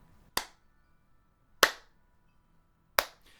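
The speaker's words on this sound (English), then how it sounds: "A dark silhouette in the doorway steps forward, slowly clapping." Three slow, deliberate claps from a lone figure in a dark doorway, each a sharp, crisp smack spaced over a second apart with near silence between.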